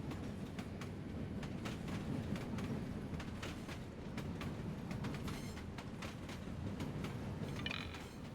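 Continuous low rumble and rattle of a passenger train car rolling along the rails toward a transit station, close and steady, with light periodic clacks and a brief high squeal near the end.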